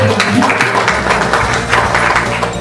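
Applause from an audience at a community-based surveillance training workshop, a loud, dense patter of clapping sustained throughout over a low background hum.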